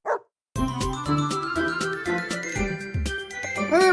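Several dogs bark and yip at a man dressed in a dog costume, a busy run of overlapping barks over jingling music with a brief voice just before, loud and close throughout.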